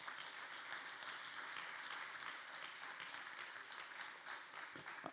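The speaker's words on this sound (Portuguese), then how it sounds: "Esse é o momento de você dar outra salva de palmas para o Senhor." A church congregation applauding in praise, with steady, dense clapping from many people sustained for several seconds, soft and distant in the room, with no voices over it.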